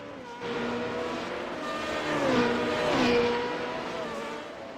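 Formula Renault 3.5 race cars at the Circuit de Catalunya during a Spanish Grand Prix weekend: loud, high-pitched engine whine that holds steady, then bends and swells as the cars shift and close in, with no clear gaps between them.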